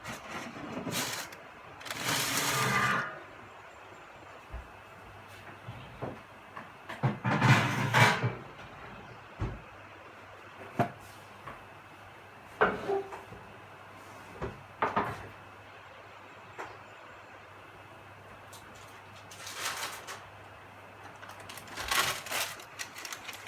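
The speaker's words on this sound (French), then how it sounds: "je vais retirer la plaque" Baking tray of raspberry macarons being pulled from a home oven, heard as scattered clattering knocks and metallic scrapes with quiet pauses between, a few louder bursts near the start and end, and no talking.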